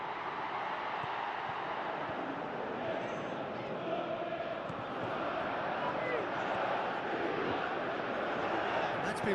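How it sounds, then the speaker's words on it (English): A PES football video game stadium crowd roars steadily, a dense continuous wall of noise urging a French attacker to shoot, with no clear speech over it. "Crowd calling for him to shoot."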